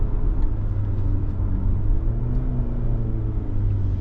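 A 2025 Kia Sportage XPRO engine drones steadily through manual downshifts on its six-speed gear shift, a low rumbling hum heard from inside the cabin, with no talking.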